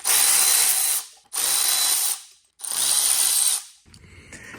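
Ratchet or power driver spinning out 13 mm bolts from the fuel rail of a PSA 1.2 EB2DT Puretech engine, in three loud whirring bursts of about a second each with short pauses between them, close up and without talk.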